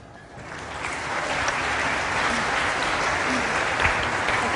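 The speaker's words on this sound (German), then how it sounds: "Und jetzt Applaus nochmal für unser Orchester." Audience at a Christmas physics lecture at TU Munich applauds the orchestra, clapping swelling quickly from a scattered start into dense, sustained applause.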